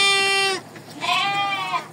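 Sheep on a farm in Porto Feliz, São Paulo, bleat up close. One long, clear bleat is followed by a second, wavering call, with no talk over them.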